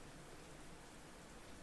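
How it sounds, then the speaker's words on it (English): Steady, soft rain falls in a Minecraft game world, an even wash of hiss-like patter with no distinct drops, faint and continuous. "can you hear the rain?"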